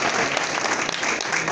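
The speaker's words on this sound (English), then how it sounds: "Round of applause for Bill Nutt." A Lincoln Day Dinner audience applauds Bill Nutt of Henderson County, a steady, dense wash of clapping that fills the short moment without pause.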